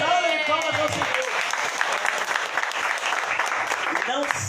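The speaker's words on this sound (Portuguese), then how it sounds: "Nós temos uma salva de palmas ao Senhor." A church congregation claps for the Lord in a steady, dense round of applause that fills the room, with a voice faintly heard at the start and end.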